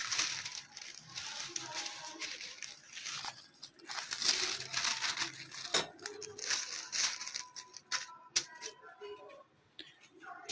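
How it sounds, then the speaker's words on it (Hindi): Butter paper being handled and cut while making frozen parathas: soft crinkling and rustling with a few tearing and snipping sounds, close and quiet, with occasional faint talk mixed in. "अगेन इसके ऊपर इस तरीके से बटर पेपर रख देंगे। 2 रखने हो गए, इसे काट लेते हैं।"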